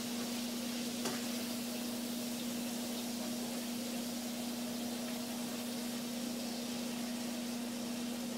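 Ground beef frying in a pan for taco night, a steady close hiss of sizzling fat with faint scrapes from stirring, alongside a constant electrical hum, no voices.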